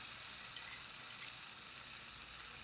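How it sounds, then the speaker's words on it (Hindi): Finely chopped potatoes fry in two to three tablespoons of cooking oil over a medium flame, giving a soft, even, continuous sizzle that stays steady throughout and sounds fairly quiet and close. "इनको मीडियम फ्लेम पे हम फ्राई कर लेंगे"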